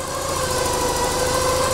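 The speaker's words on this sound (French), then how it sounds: "le moteur tourne et le moteur tourne parfaitement rond" A Porsche 944 with a 3-litre engine idles smoothly and steadily, a close, even mechanical hum with a fine regular pulse and no variation in revs, heard alone throughout.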